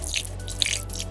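Pure glycerin drips into a large batch of clear borax-free slime glue, giving soft, repeated wet drip sounds close up with no talking.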